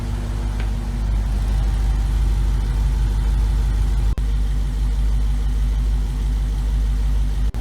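A Dodge Charger or Challenger Hellcat engine idles steadily at close range after a thermostat replacement, a low continuous rumble with an even hum and no voices.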